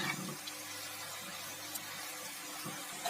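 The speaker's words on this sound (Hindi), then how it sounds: "ग्रेवी मुझे ज़्यादा सूखी लग रही थी तो मैं इसमें थोड़ा सा पानी डाल दी हूँ।" Water poured into a pan of potato manchurian gravy just after cooking, a soft, steady, faint running and splashing with no talking.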